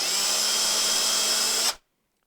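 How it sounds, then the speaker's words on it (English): A power drill runs slowly and steadily for under two seconds, boring a screw hole for a guitar neck joint, then stops abruptly into silence. "I'm going to drill one hole to start off, nice and slow."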